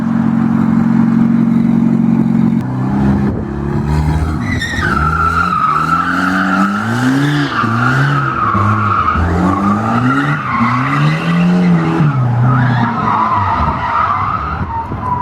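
A Volvo car drifts with tires skidding and squealing loudly and continuously, sliding in long wavering screeches over a revving mid-pitched engine, close and sustained throughout.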